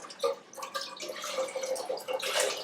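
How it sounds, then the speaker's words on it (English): Vegetable broth is poured from a container into a cooking pot, a continuous light splashing and gurgling trickle that is close and fairly quiet, with no talking over it. "I'm going to go ahead and put that in my pot"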